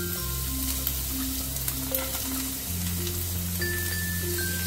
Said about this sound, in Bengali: আদা রসুনগুলোকে একটুখানি ফ্রাই করে নেব